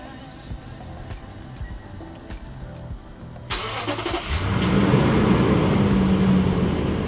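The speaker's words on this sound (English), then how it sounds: "hit remote start, and watch." A Lexus GX460 engine cranks and catches partway through after a remote start from a phone app, following a quiet stretch, then settles into a steady, slightly rising idle close by.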